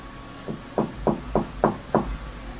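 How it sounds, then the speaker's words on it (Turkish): Six soft, evenly spaced knocks land on a door that has been permanently sealed shut, each tap distinct and muffled, coming from the far side of the door against a quiet low hum. "Kapı diğer taraftan nazik bir şekilde tıklatılır."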